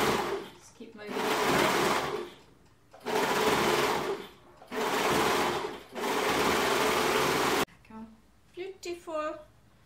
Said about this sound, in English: So now I just have to overlock it.